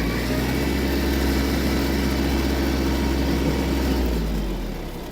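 A Kubota GB-15 Japanese mini tractor, about 550 kg with four-wheel drive and a rotary tiller, runs with a steady, close diesel drone that holds even before easing off slightly at the end.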